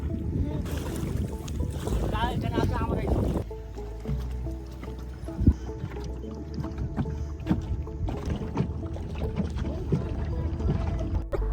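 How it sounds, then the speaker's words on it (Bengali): A boat glides across Bilkumari wetland on a winter afternoon, with steady low water and wind rumble, faint creaks and a few brief knocks, and a soft voice or two murmuring in the background. "এবার নৌকায় করে ঘোরার পালা"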